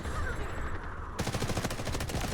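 Rapid M4A1 rifle fire in the shooter game Delta Force, a dense burst of evenly spaced shots starting about halfway through and running to the end over a steady background.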